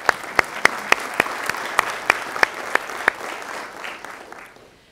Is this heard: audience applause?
yes